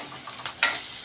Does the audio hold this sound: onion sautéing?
yes